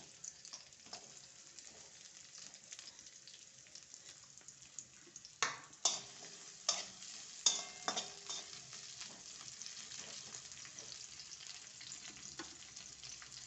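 Onion and oil frying in a hot kadhai while making a masala paste for Malvani prawn curry, a faint soft sizzle with a short run of louder crackles and taps in the middle, with no voices.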